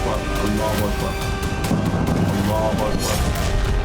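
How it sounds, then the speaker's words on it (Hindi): Dense rumbling booms and crackling blasts from strikes over Tehran go off one after another in the sky over constant background noise and faint voices, like distant explosions. "यहां भी एक के बाद एक आसमान में धमाके देखे गए।"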